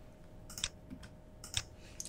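A few crisp clicks of a computer mouse, made while selecting a face in Fusion 360 during a pump housing design, sound close and quiet, with two clear bursts and a softer one at the end, and no one talking.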